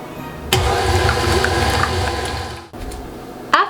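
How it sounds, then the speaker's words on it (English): An electric stand mixer runs on low through sugar cookie dough, a close, steady motorized whir with a churning rumble that stops briefly, restarts, and ends on a short clatter. "Then you want to turn your mixture on low."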